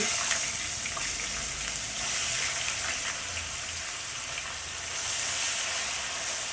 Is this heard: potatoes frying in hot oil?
yes